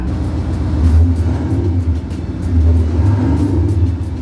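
A deep, rumbling simulated Mercedes S63 engine sound revving up and settling twice, loud and close, with a throaty low growl and no voices.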